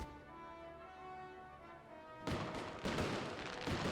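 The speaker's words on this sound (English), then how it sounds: "Wow, fireworks!" Fireworks in the video game Dragon Quest VII Reimagined: tonal game music plays, then a run of loud, close booming bursts crackles in over the second half.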